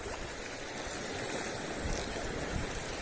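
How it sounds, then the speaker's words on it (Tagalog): A deep, strong river current rushing along the shore at a fishing spot, a dense, continuous wash of water noise that stays steady throughout with no talking. "Lakas ng agos."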